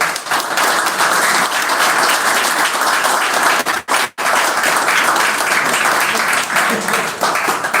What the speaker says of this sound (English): let's give all of our candidates applause.